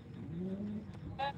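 Rajshahi Girabaz pigeons give a low, rolling coo close by, one drawn-out call followed by a brief brighter flutter of sound at the end.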